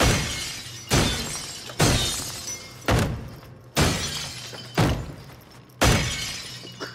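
Glass shattering again and again in the Redfall video game, seven sharp crashes arriving at roughly one-second intervals, each a bright burst of breaking shards that tails off before the next one hits.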